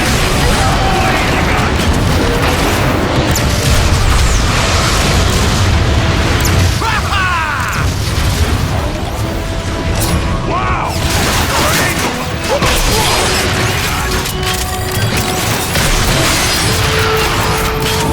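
Booming explosions and bursts of gunfire fill a Transformers video game battle, a loud, dense and continuous mix of blasts and mechanical clatter with voices occasionally heard underneath.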